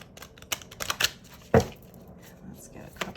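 Oracle cards from the Universe Has Your Back deck are shuffled by hand, giving quick irregular papery riffles and slaps, close and fairly quiet.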